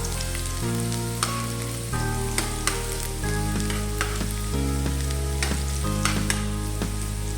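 Garlic sizzles steadily in hot cooking oil in a pan, a close, continuous frying hiss with occasional stirring scrapes, no voices over it.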